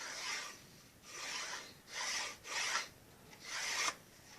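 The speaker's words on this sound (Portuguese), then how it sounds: "lixa esse canto, para deixar esse perfil" Sanding the edge of an MDF wood piece for a miniature three-axle dump semitrailer, heard as five rhythmic rasping strokes, each about half a second, with no talk.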